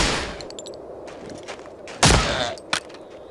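A few sharp submachine gun bursts in Medal of Honor: Allied Assault, one loud burst of rapid fire followed by a single crack, with faint clicks before.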